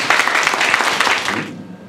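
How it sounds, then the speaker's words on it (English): An audience welcomes a lecturer at a subtitling workshop with brisk applause, many hands clapping at a lively level before it quickly fades away. "Please give a warm applause for Taro Goto."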